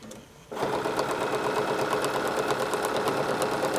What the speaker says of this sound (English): I'm just going to stitch this down.